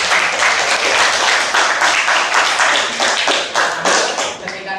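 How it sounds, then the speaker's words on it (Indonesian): Audience applause at a school talk on technology, dense steady clapping from many hands filling the room, slightly uneven with individual claps standing out, continuing without pause. "Beri tepuk tangan untuk"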